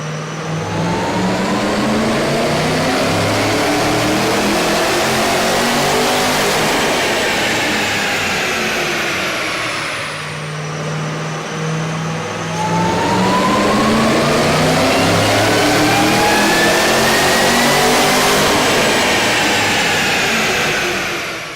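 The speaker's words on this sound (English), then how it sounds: "we ran the vehicle on the dyno to test the sound comparison versus the stock intake" A Chevy Camaro ZL1 with its 6.2L V8 and K&N air intake revs hard on a dyno, climbing in pitch in long sweeps, dipping briefly, then rising again, loud and close with no talk.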